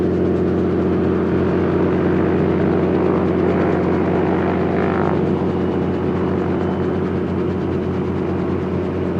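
A helicopter at a small airport builds up a steady, loud engine whine and rotor whir, sustained and close without pause as it powers toward lift-off.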